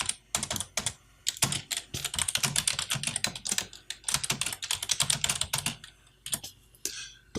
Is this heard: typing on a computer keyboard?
yes